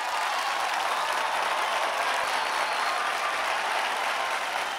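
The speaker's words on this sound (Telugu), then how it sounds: "చప్పట్లతో స్వాగతం పలుకుదాం." A competition audience applauds to welcome the judge, a dense, even wash of clapping at moderate level, steady throughout with no pauses.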